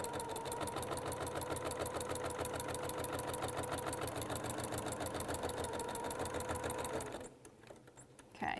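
A sewing machine stitches binding onto a quilt edge at a quarter-inch seam, a fast steady mechanical whirr close by for about seven seconds before stopping, followed by quieter handling noise.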